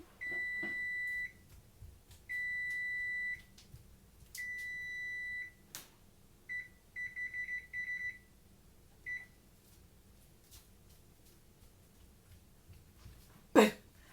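A kitchen oven timer sounds three long steady beeps, then a quick run of shorter beeps and a final brief pair, fairly clear against a quiet room, with a sharp knock near the end.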